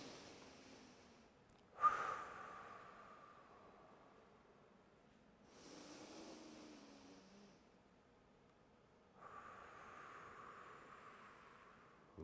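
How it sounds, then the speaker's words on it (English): Slow breathing exercise in a laughter yoga session: a sharp inhale followed by soft, airy exhalations blown out in three separate breaths, close and fairly quiet, with no talking. "we're just going to breathe in through our nose and blow it out"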